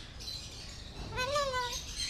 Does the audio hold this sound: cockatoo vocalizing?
yes